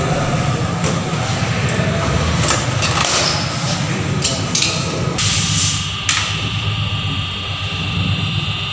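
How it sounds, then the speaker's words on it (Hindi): At a dealership, a high-security registration plate is fitted to a motorcycle. A few sharp, scattered taps sound over a constant mechanical background hum. "अब मेरे मोटरसाइकिल में हाई सिक्योरिटी नंबर प्लेट लगाया जा रहा है।"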